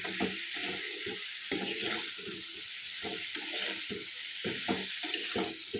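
Fish pieces with turmeric, chilli powder, salt and cumin stirred in a hot pan, an even sizzle broken by repeated rhythmic spatula scrapes, close up with no speech.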